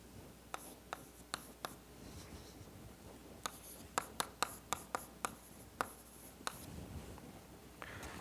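Equations being written on a board, chalk tapping and scratching in quick sharp strokes with short pauses between bursts, fairly faint and close, with no voice over it.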